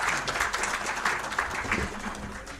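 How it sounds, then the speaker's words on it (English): Audience applauding panelists at the close of a discussion session on India's textile and apparel sector, a steady patter of many hands clapping at moderate volume with some faint talk mixed in. "A big applause for our"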